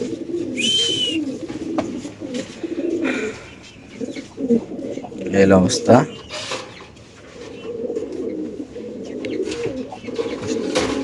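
Pigeons coo in soft, throaty murmurs close by at a pigeon farm, with some rustling and a brief bird chirp, while someone speaks briefly.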